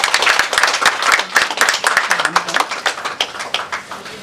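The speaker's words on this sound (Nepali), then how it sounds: "यहाँहरू सबैजनाबाट जोरदार तालीको पनि अपेक्षा गर्छु पुनः एकपटक" Lively audience applause at a Women's Day award ceremony honouring women, dense rapid clapping from many hands sustained throughout, with a voice faintly underneath.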